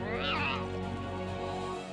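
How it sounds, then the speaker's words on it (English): In Monster Hunter: World, a cat companion gives one rising, drawn-out meow that ends in a sustained tone, clear and near, with a person's voice faint underneath. "I didn't expect to have options of voices for the cat"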